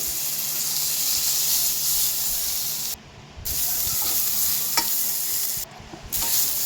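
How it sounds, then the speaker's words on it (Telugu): Curry leaves sizzle and crackle in hot oil in a pan while being stirred for a red onion chutney, a steady close frying hiss broken by two short silent gaps. "అందులోకి కొద్దిగా ఆయిల్, కరివేపాకు వేసి బాగా వేయించుకోవాలి"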